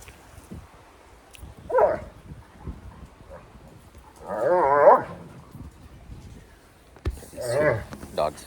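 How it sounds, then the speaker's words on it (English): Two dogs fight in three loud bursts of snarling and barking, each lasting under a second, with quieter gaps between them. "These 2 dogs fighting."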